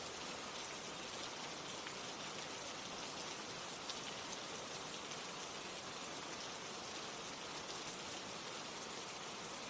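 Steady rain falls in a dense, even hiss of countless drops on surfaces, soft and constant throughout with no voices.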